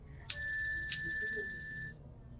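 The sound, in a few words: smartwatch find-device alert sound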